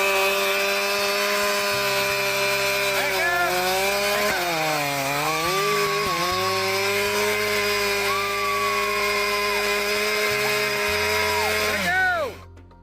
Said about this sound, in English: this elderly woman handles a chainsaw